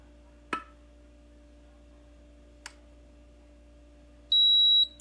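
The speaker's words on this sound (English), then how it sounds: "when it reaches the correct temperature, it's going to beep." After a couple of faint clicks, a BEAUTURAL 1800-watt digital steam iron gives one loud electronic beep near the end on reaching temperature, steady and high-pitched, over a quiet hum.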